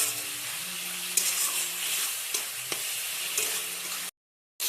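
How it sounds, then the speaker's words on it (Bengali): A ground spice paste of coriander, cumin, chilli and turmeric powders, soaked beforehand, fries in oil in a steady, loud hiss and sizzle with a few soft knocks from stirring, then cuts to a brief silence. "মশলা কষানো হচ্ছে।"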